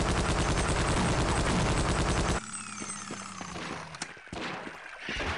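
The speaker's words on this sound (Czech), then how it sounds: "Jaj, slyším rotačák." A minigun in the Half-Life mod Wanted! fires a loud, continuous rapid burst for a couple of seconds, then cuts off, leaving scattered clanks and softer background noise.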